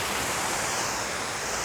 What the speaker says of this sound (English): okay, we got a nice little waterfall